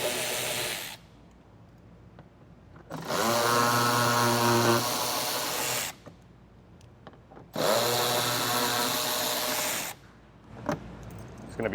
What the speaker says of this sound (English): I got an 8mm socket and I'm going to remove some of these screws.